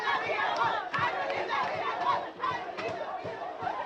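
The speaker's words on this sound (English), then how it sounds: "Now the crowd is really getting into it." Crowd at a men's college soccer match against Graceland, cheering and chattering steadily throughout, a dense, moderately loud roar with rising shouts near the end of a 4-1 game.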